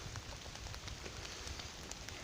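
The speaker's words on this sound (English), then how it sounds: "it's raining right now" Steady rain falls outdoors in the woods, a soft, even patter of drops on leaves and ground with scattered brighter ticks, faint and continuous with no talking.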